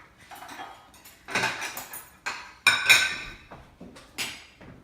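A knife cuts into a sweet potato pumpkin pecan pie on a plate: a series of clinks and scrapes of metal against the dish at irregular intervals, close and fairly quiet, with no talk.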